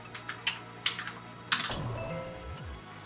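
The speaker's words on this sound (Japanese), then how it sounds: "いや私タイピングが遅いんだよね。" A handful of sparse, separate keystrokes on a computer keyboard, typed slowly in an online word game, with soft background music tones underneath and no one talking.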